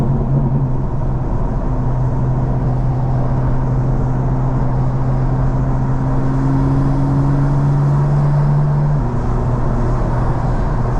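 A steady, loud engine drone from inside the cabin of a 2024 BMW M4 Competition xDrive at night, exhaust valves open, low and rumbling with a constant hum, holding speed with no voices.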